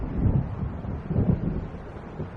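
Thunderstorm in the video game Alan Wake Remastered, with a low rumble of distant thunder and wind swelling twice over a dull, steady roar.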